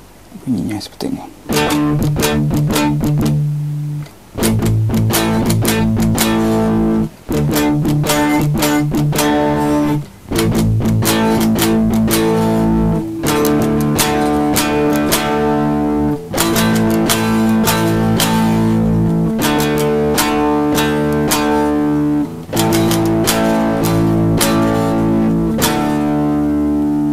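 Electric guitar played through a Boss DS-1 distortion pedal: loud, driven chords and riffs strummed in repeated phrases with brief gaps, bright and saturated throughout.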